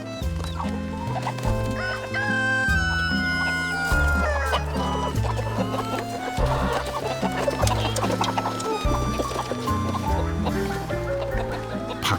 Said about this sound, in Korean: 밥 시간이 되니 어디선가 닭들이 내려오네요.